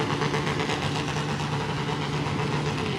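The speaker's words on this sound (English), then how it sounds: "The distinct roar of a Harley Davidson." Harley-Davidson motorcycle engines rumble steadily through a Liberation Day parade in Agana, Guam, a continuous loud, low idling drone with no voices over it.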